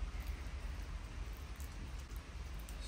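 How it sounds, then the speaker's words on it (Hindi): Rain falls steadily along deserted railway tracks in Belgium, a soft, even hiss of drops with a low rumble underneath, fairly faint and unbroken, with no voices. "काइंड ऑफ ऐसे पानी गिर रहा है, बारिश हो रही है"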